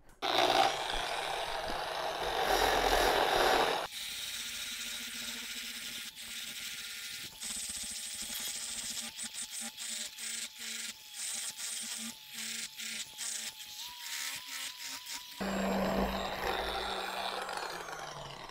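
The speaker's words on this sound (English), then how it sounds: "we're gonna take it up one more step with that unitizing disc and just finish off this corner" A unitizing disc finishes off a welded corner on brushed steel, giving a steady close whirring abrasive hiss with a series of rapid pulsing passes through the middle, bracketed by louder broadband grinding at the start and end.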